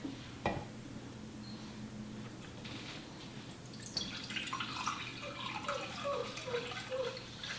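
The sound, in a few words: water being added to a bowl for activating bread yeast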